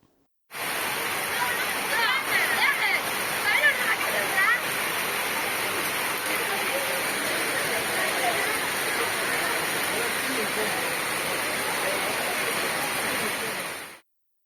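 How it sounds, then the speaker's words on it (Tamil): Heavy rain pours down steadily near Kumbakonam in Tamil Nadu, a dense continuous hiss and splatter that stays loud and even for about fourteen seconds with no break. "இதேபோன்று கும்பகோணம் அருகே சாக்கோட்டை, சோழபுரம், திருவிடைமருதூர் உள்ளிட்ட இடங்களில் 2வது நாளாக கனமழை வெளுத்து வாங்கியது."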